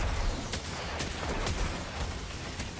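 Rapid hand cannon gunfire from the video game Destiny 2, a dense run of sharp shots repeating about every half second over continuous game noise, loud and close.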